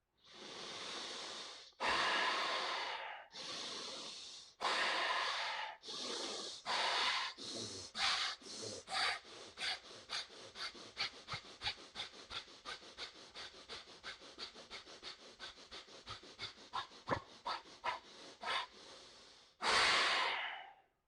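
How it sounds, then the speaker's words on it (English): Deep pranayama breathing exercise: a few long, forceful inhales and exhales through the nose, then a fast, rhythmic run of sharp, snorting breaths that speeds up, ending in one long, deep breath, close and clear with no talking. "Third round, deep inhale."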